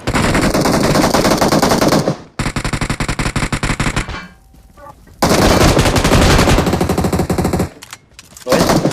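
Loud automatic gunfire from the mobile battle royale game PUBG Mobile, long sustained bursts of rapid shots broken by short pauses, with faint game sounds in the quieter gaps.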